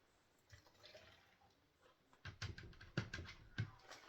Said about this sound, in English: Use a little bit of water to rinse this.